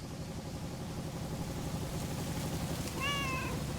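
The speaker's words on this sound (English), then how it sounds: "And her cats, of course. Seems like they've multiplied." A single short cat meow from the video game Lake rises near the end over a steady low background hum and ambient game noise, fairly clear and close.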